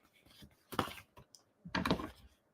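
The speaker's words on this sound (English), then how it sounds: "And then we want to trim off any excess." Excess paper is trimmed away from a freshly stamped card in two short, crisp cutting bursts, quiet and close, with brief pauses between.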